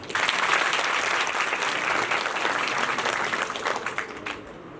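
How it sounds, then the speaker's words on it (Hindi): An audience at a children's award ceremony at SBS Panchkula breaks into loud, dense applause that holds steady for several seconds and then tapers off. "अपने लिए तालियां बजाएं"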